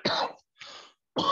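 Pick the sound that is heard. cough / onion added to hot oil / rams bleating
cough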